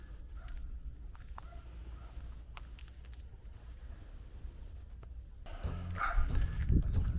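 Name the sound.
several dogs barking at each other in rural Portugal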